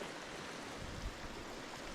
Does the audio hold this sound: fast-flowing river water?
yes